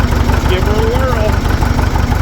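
A 1940 Ford 9N tractor engine runs close by with a steady, loud low rumble, and a faint whine rises and falls over it.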